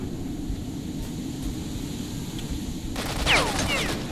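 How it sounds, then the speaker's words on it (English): Distant gunfire in S.T.A.L.K.E.R.: Shadow of Chernobyl: faint scattered shots over a constant rumbling ambient noise, with a brighter burst of crackling near the end. "Yo, who's shooting?"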